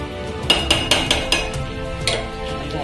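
A spoon scrapes and clinks against a pan while sabudana khichdi is stirred, in a rough series of sharp metallic taps about a quarter second apart, then one more after a short pause.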